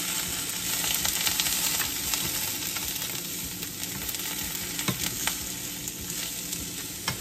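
Smoked crab grilling gently in a frying pan sizzles in a steady, dense crackle throughout, with occasional sharper pops and ticks, close and fairly quiet, with no voices.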